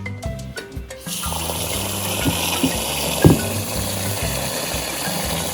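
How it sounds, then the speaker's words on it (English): Running tap water fills and swirls through a pot of rice being washed, a steady close rush with a few clinks and splashes. "Wash my rice."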